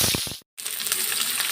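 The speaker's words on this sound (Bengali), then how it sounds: "আর এখানে তেলটা বসিয়ে দিয়েছি, তেলটা গরম হয়ে গেছে। এবার মাছ" Fish rubbed with salt and turmeric hitting hot oil in a pan, a brief gap and then a loud, steady crackling sizzle.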